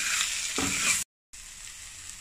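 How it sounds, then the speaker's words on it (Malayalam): Tomato being sautéed in a spiced masala until soft, a close steady sizzle with a brief stirring scrape, then a short gap of silence before the frying hiss resumes. "തക്കാളി ഒന്നിങ്ങനെ ഉടയുന്നത് വരെ വഴറ്റി കൊടുക്കുക"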